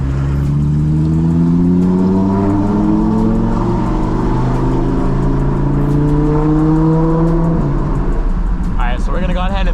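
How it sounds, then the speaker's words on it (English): An Audi R8 sports car engine revs and accelerates loudly on a highway, its exhaust pitch climbing steadily, with popping burbles near the end. "You can already hear the burbles. It sounds crazy."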